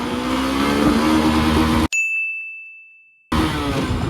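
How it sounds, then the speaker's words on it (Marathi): A Honda Unicorn 160 motorcycle pulls away in first gear with a loud, steady engine drone. It cuts to near silence with a single sustained tone for over a second, then the engine roar returns. No one speaks. "तर चला आता गाडी स्टार्ट करू आणि बघू आपल्या गाडीचं जे काय स्पीड येतं फर्स्ट गिअरवरती किती येतं"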